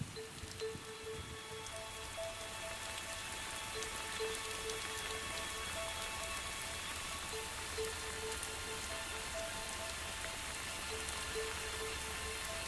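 Rain from a storm pouring down and soaking the soil, a steady dense patter of drops hitting the ground continuing throughout without any voices.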